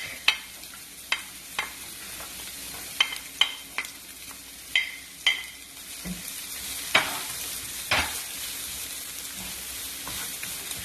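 Shallot and garlic frying in a pan for a Vietnamese shrimp and meatball udon soup, a steady sizzle broken by repeated sharp scrapes and clacks of a utensil stirring, close and fairly even.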